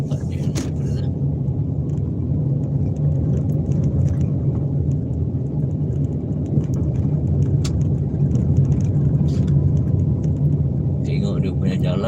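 Cars driving into a school compound (Sekolah Kebangsaan Loyang), a constant low engine and tyre rumble that stays steady for the whole stretch, with faint voices in the background.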